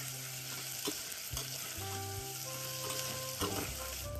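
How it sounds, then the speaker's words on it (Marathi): Thinly sliced onion fries in hot oil for masala khichdi, giving a steady close sizzle with occasional stirring scrapes and clinks throughout, and no voices. "चिरलेला पातळ असा कांदा घालून घेतलीये. तोही आपण छान लालसर होईपर्यंत या तेलामध्ये फ्राय करून घ्यायचा"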